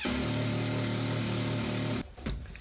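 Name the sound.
power drill drilling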